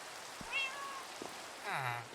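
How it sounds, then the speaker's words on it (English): Several cats meow in Minecraft, two or three short, clear meows spread across the moment over a faint, steady background hiss. "there are definitely more cats in here"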